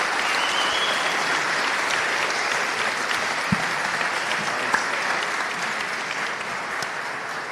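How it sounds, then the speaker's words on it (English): Sustained applause from a summit audience, an even wash of clapping at moderate level with a couple of sharper knocks partway through. "So big round of applause to you guys"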